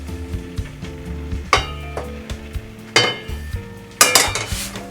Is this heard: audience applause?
no